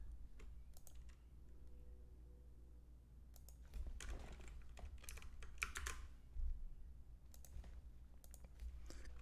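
Someone types on a computer keyboard close by, in quick irregular bursts of soft clicking with short pauses between them, over a faint low hum.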